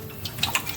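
Water added to a paper towel holding pepper seeds, heard as a short soft splash and trickle with a couple of brief wet bursts, close by and quiet, no talking.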